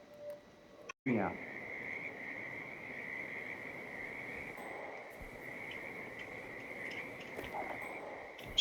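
Frog croaking in the video game Hitman 2, heard as a continuous buzzing trill that holds steady for several seconds over a quiet ambient game background.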